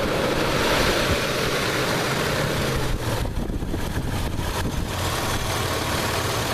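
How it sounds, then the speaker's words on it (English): The engine-driven cooling fan of a 1997 Isuzu Rodeo runs with a loud, steady, whooshing roar over the idling engine, unbroken throughout. "Got a nice loud fan."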